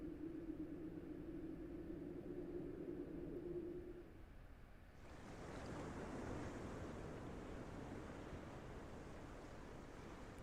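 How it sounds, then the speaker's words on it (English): Waves breaking on a shore in the video game Nerus, a steady distant wash of surf with a low hum fading out midway as the roar broadens and grows airier. "Distant waves were crashing against the shore."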